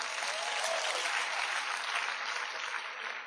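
A church congregation applauds during a Christian sermon, a brief, even burst of many hands clapping heard at moderate distance and fairly quiet.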